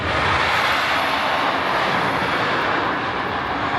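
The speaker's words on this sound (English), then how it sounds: "this could actually hold the record for the loudest roller coaster in the world" At Six Flags Magic Mountain, a loud roller coaster gives off a steady, dense roar that does not let up, close and overwhelming, with no voices.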